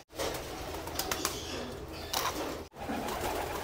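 Pigeons in a loft aviary coo and rustle around a feeding dish of mixed grits, a dense, close, busy murmur with brief wing flaps, broken by one sharp cut near the end.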